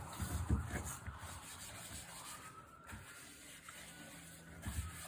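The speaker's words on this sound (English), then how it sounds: "I generally take the old polish off with the grain" Soft, close rubbing and scrubbing with the grain, stripping old French polish from a Victorian walnut surface, in faint repeated strokes with brief pauses between passes.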